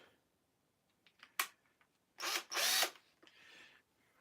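A power drill drives screws during a TV repair, heard as several short, separate whirring bursts that are close and moderately loud, with quiet pauses between them.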